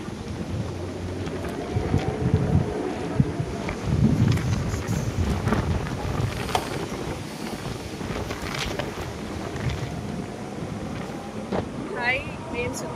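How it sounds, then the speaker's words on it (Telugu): Strong cyclone wind roars across the microphone outdoors in loud, continuous gusts, rumbling and buffeting throughout with scattered rattles and knocks. "ఇవాళ తుఫాన్ చాలా తీవ్రతగా ఉంది. గాలి అది చాలా చాలా ఎక్కువగా ఉంది."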